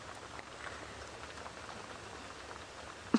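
Steady, faint rainfall patters evenly across open bush ground on an evening safari drive, with a brief louder knock near the end.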